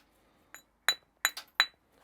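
A hammer strikes flint while knapping a Neolithic axehead, giving four or five crisp, bright clicks in an uneven rhythm, close and clean against near silence.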